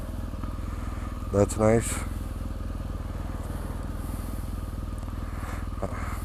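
Motorcycle riding along a road in Myanmar, its engine a steady close rumble throughout, with a brief voice speaking over it midway.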